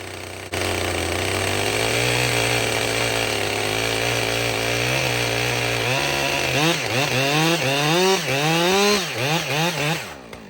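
A Husqvarna 562 Mark II chainsaw with a freshly filed chain drones at steady high revs, then bites into wood with repeated surging cuts and engine pitch dips, loud and close.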